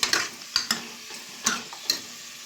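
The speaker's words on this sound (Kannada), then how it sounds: "ಚೆನ್ನಾಗಿ ಎಣ್ಣೆಯಲ್ಲಿ ಫ್ರೈ ಮಾಡೋಣ" Ingredients frying in oil in a pot for mutton sambar give a soft sizzle, punctuated by a handful of sharp spatula scrapes and taps against the pan, close and fairly quiet.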